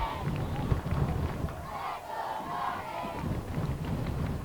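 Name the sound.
football crowd cheering in the stands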